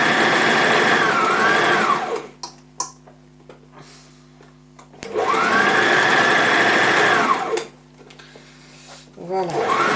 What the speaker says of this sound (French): surpiquer notre couture vers le haut, enfin les valeurs de couture vers le haut qui seront comprises en fait dans le jupon